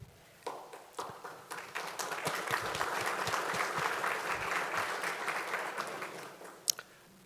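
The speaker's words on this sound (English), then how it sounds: "Let's have a round of applause." A crowd at an economic development board's annual meeting breaks into applause, starting with a few claps, swelling into sustained clapping, then fading out with a sharp tap near the end.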